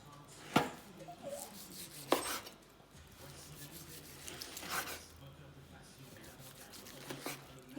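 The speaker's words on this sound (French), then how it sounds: "On va maintenant couper les tranches ici de côté" A knife cutting slices from the side of a piece of precision-cooked meat, giving several soft scraping strokes spread apart, close and quiet under a low background.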